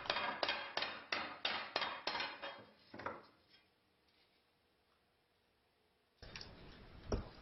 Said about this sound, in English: The blade is made perfectly straight by laying it on a wooden block, into which a bowl-shaped convexity has been made, and striking it with a rubber mallet.